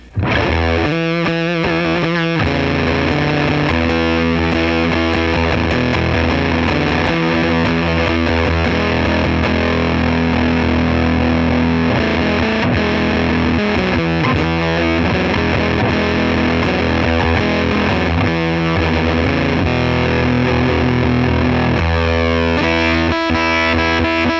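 An electric guitar runs through a hand-built clone of a Jordan Bosstone fuzz pedal, giving loud, thick, saturated distortion across sustained chords and choppy riffs for the whole stretch, with no talking.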